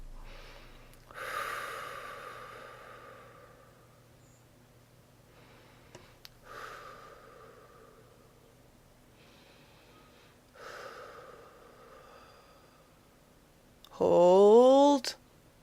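Heavy breathing from someone holding a leg squeeze during an interval-training workout: a few breathy exhales spaced several seconds apart, ending in a louder, strained squeaky burst.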